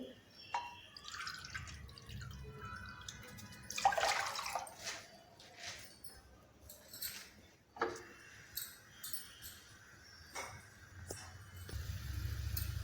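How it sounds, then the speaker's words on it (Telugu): Water poured from a cup onto sugar in a pot to make gulab jamun syrup, heard as soft splashing and dripping in several short bursts with quiet clinks between pours. "పంచదార తీసుకున్న కప్పుతోనే రెండు కప్పులు వాటర్ పోసేద్దాం దీనిలో"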